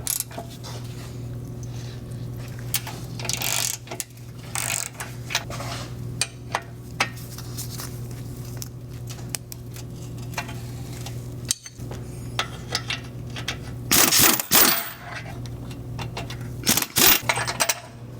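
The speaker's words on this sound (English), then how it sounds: "we're going to want to remove these three control arm bolts" Metal wrench work on Volvo control arm bolts (15mm, 17mm, 18mm) under a car: scattered clinks and ratcheting clatter over a steady low hum, with a louder burst of metallic clanking near the end.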